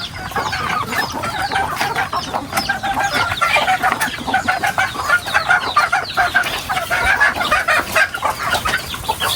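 A flock of backyard chickens behind a house clucks and chatters continuously, many overlapping calls close by, busy and lively, without talking.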